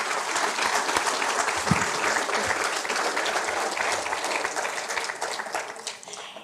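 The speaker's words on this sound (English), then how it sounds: "Please join me in giving a round of applause for our recipients of the Membership Award" An audience at the Utah Safety Council annual meeting and awards applauds Membership Award recipients, with steady, dense clapping from many hands that tapers off near the end.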